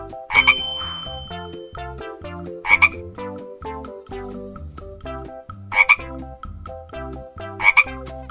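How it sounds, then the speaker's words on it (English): Four short, raspy frog croaks at irregular intervals, each loud and close, over a steady melodic music backing. "Frog."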